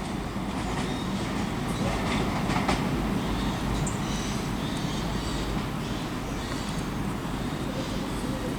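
A train on the Great Western Main Line rumbles past at moderate distance at Reading West, a continuous low roar with faint rattling of wheels on track.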